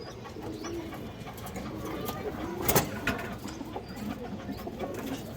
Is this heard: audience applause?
no